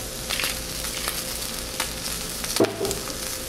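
Sausage and zucchini fry in a pan with a soft, steady sizzle at close range, broken by a few clicks and scrapes as pieces are turned, with no voices.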